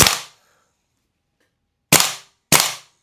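Three sharp airsoft rifle shots in semi-automatic mode with the bolt held out, one at the start and two close together near the end, loud and near with silence between.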